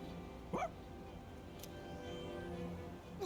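A single short bark from Koro-chan, the dog in Persona 3 Reload, heard close and clear, with quiet game ambience around it.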